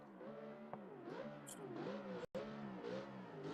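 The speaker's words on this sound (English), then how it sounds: "After hearing these cars rip around, I'm like, I gotta get one of these." Engines of off-road 4x4 trucks in a sim racing video game rev and drone with rising and falling pitch, one continuous engine roar with a brief cut partway through.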